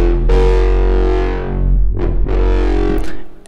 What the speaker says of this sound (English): But that's quite a bit of reverb.